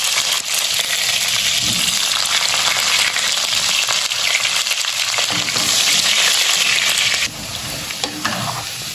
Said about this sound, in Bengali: আলুগুলো আস্তে আস্তে ভেজে নেব